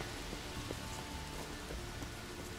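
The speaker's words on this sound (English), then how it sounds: "Looks like rain." In-game rain in The Witcher 3 makes a constant, even hiss of falling drops that fills the background at a soft, steady level, with no speech over it.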